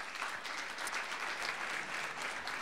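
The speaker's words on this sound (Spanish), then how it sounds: "Pido un aplauso porque se han esforzado mucho preparándose." A large audience claps steadily at a lecture event honoring people receiving a UNESCO certification, dense and sustained applause filling the room with no voices over it.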